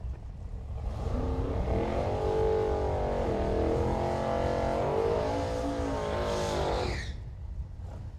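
A naturally aspirated, fuel-injected big block drag race car rolls through at Hot Rod Drag Week, its steady, loud engine drone holding for about six seconds before fading.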